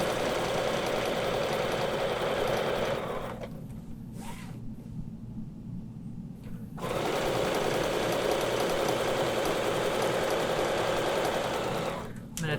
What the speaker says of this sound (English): I'm going to stitch this line down.